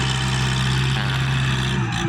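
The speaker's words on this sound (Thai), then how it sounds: "55 แรงม้านะครับเครื่องยนต์ 4 สูบ เทอร์โบนะครับ" A 55 hp four-cylinder turbo diesel engine in a four-wheel-drive farm tractor runs at a steady idle, a loud, continuous low drone with a constant throb, heard close up with no talking.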